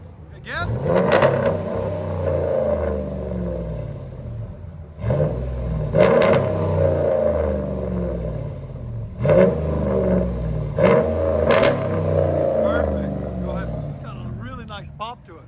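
A 2014 Ram 1500 pickup with a 5.7-liter Hemi V8, Carven R-Series exhaust and resonator delete, revs repeatedly from idle in sharp loud surges that fall back to a deep rumble, with voices talking between pulls.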